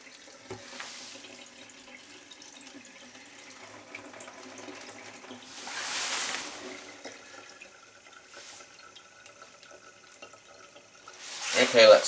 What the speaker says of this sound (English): I'll keep the water on it for a while, just turn the flow up a little bit